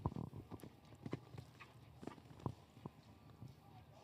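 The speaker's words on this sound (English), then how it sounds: "This is a 9-year-old horse by Connor and has contender breeding on the dam side." A nine-year-old show jumper's hooves clip-clop on the arena footing at a grand prix, sounding as irregular close thuds while a low voice murmurs underneath.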